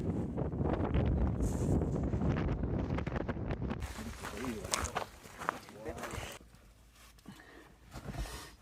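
Strong gusty wind buffets the microphone on the Bluff Knoll summit, roaring loudly and then easing. A hiker's footsteps crunch and people speak over it.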